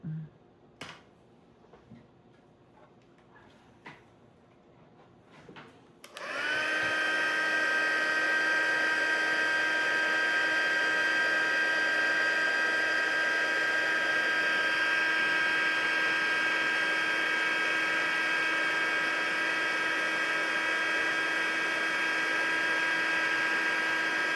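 A heat gun for heat embossing copper powder on cards switches on abruptly after a few quiet light clicks, then holds a loud, steady whirring blower tone with a high whine throughout.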